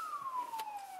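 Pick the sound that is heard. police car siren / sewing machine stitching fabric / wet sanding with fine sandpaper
police car siren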